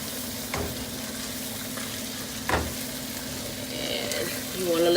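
Chopped mushrooms hit a hot pan with a steady frying sizzle that swells toward the end, with a couple of short knocks from stirring along the way.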